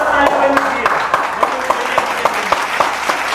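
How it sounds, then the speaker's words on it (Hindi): A studio audience at a Hindi quiz show breaks into steady, dense applause, many hands clapping together at close range for several seconds with no voices over it. "जोरदार ताली बजाइए।"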